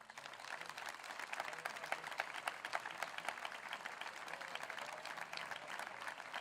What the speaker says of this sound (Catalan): Permeteu-me que demani un aplaudiment per a ells.